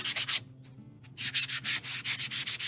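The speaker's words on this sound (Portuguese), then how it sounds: "Dá uma lixadinha." Sandpaper rubbing a painted wood surface by hand, a rapid run of rhythmic back-and-forth rasping strokes close up, a brief pause, then more strokes, with no talk.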